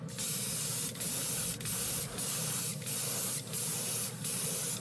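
An airbrush spraying gold chrome candy tint paint hisses in a string of short bursts, each about half a second with brief pauses between, steady and close with no talking.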